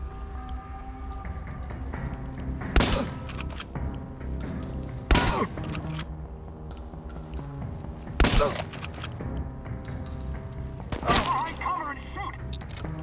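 A handful of sharp gunshots crack out at irregular intervals over a constant droning game soundtrack, with brief talk mixed in.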